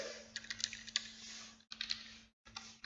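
Keys clatter on a computer keyboard as commands are entered to configure a router interface, irregular clicks in short runs with brief pauses, over a low steady electrical hum.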